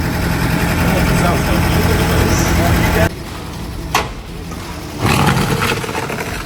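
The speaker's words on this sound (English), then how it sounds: "the car started right out of the bat, which never happens" The engine of a wrecked Porsche 718 Cayman S runs with a steady close rumble, then drops away sharply midway before a short burst returns, while people talk over it.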